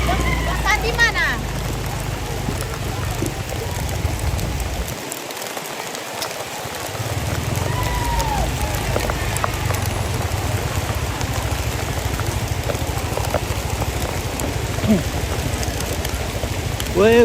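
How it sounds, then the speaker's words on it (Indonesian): Heavy rain pours steadily as a dense, even hiss throughout an outdoor funeral gathering at a Toraja tongkonan in Sa'dan, with a brief lull in the low rumble partway through. "Woi, hujan deras."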